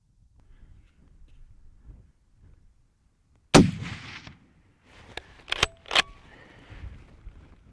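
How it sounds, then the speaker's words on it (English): A rifle shot fired at a stag during a stalk on open Scottish hill ground rings out once, sharp and loud, with a short echoing tail, followed by a few metallic clicks of the action. "Very happy with that shot."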